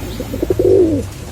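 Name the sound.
Chinese pigeons cooing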